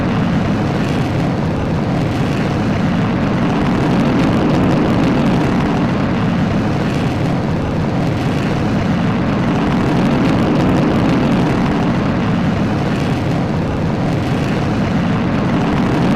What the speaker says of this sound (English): It's almost like we got 5 rocket engines.